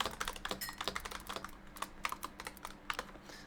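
Rapid clicking keystrokes on a computer keyboard come in irregular bursts with brief pauses, close and crisp with no voices.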